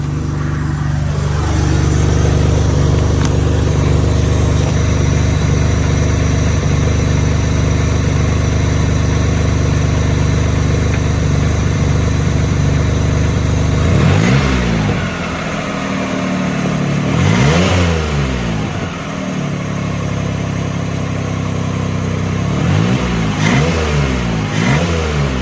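A Mitsubishi Eclipse GTS fitted with a cold air intake runs at a loud, steady high rev for several seconds, then is blipped repeatedly, each rev rising and falling with air rushing through the intake.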